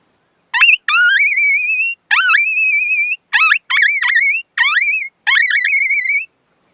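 Coyote howler call blown to imitate pup distress, giving a run of six loud, high whining yelps with sliding pitch and short gaps between them, heard close and with nothing else around.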